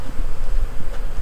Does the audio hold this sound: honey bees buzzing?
yes